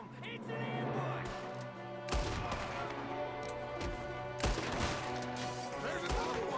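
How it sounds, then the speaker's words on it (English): Gunfire from an ambush in Red Dead Redemption 2, with scattered sharp shots among game music and ambient noise, several cracks near the middle and end, and someone talking throughout. "There's another one shooting from the window."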